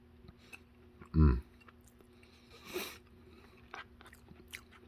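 A bite of beef pasta marinara gets chewed, with one loud crunching bite near the start, then softer, scattered chewing and clicking mouth sounds close by.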